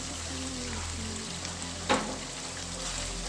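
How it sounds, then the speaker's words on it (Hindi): Kachnar keema fries in oil in a pot, giving a continuous close sizzle with one brief clatter midway. "अब इस पॉइंट पे हम इसको अच्छी तरह भुनेंगे"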